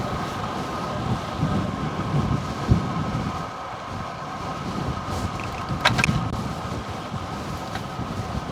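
Gusty wind buffets the microphone in low, rumbling surges that rise and fall throughout, with no voices.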